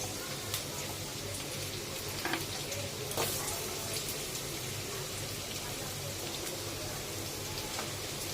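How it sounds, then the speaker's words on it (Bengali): Potatoes fry in a small amount of oil for sago upma, giving a steady, dense sizzle with scattered crackles and pops throughout. "এবার এর মধ্যে আলুটা ছেড়ে ভেজে নেবো লাল লাল করে।"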